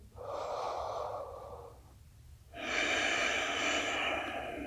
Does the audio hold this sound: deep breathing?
yes